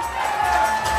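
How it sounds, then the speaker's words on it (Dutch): An audience at a Playback 2004 award ceremony applauds and cheers in a brief, continuous wash of clapping. "En applaus voor de mensen van de techniek."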